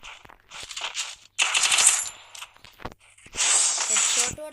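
Automatic weapons fire in the Free Fire battle royale game comes in several dense bursts, loud and close, separated by short pauses.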